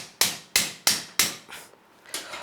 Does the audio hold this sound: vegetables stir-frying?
no